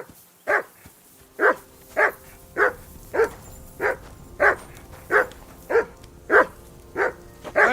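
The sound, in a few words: dog barking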